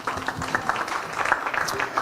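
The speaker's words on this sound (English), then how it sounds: "Can we clap for them?" Brief, fairly soft applause from an audience at a health discussion event, a scattered patter of clapping with some crowd murmur and a voice mixed in, heard close and steady over about two seconds.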